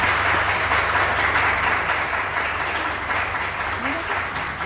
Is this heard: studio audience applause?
yes